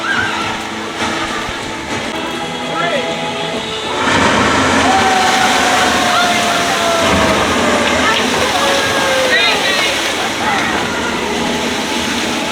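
Water splashes and rushes steadily at the Journey of Water splash pad attraction, a loud continuous wash that swells partway through, with people talking over it.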